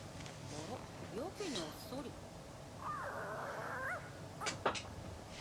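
A puppy in an anime whimpers in thin, wavering high cries, with a short sustained whine in the middle, heard under the show's background sound and nearby people reacting.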